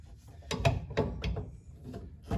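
Metal clicks and ratcheting work on a bolt in the suspension of a 1974 Chevy Nova, with several irregular close knocks and scrapes of tools on the underside.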